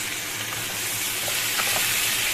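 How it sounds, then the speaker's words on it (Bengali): Vegetables and stalks frying in a pan in a home kitchen, giving a loud continuous sizzle with faint stirring clicks. "এই দেখো সবজি আর ডাঁটাগুলো আমি একটু ভাজা ভাজা করে নেব।"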